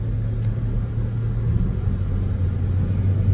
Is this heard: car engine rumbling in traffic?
yes